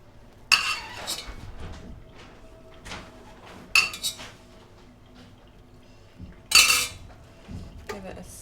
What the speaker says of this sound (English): So I'm just going to put the pasta in the tomato sauce.